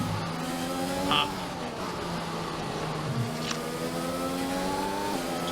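Formula 1 race car engine in the F1 video game's career mode at Barcelona, a steady high-pitched whine with rising and falling revs across gear changes, under a brief tire squeal, continuous and close.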